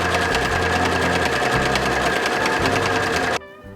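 A sewing machine runs steadily, stitching the side seam of a garment lining while leaving the slit opening unsewn, a loud continuous motor whir with a rhythmic needle chatter that cuts off abruptly near the end.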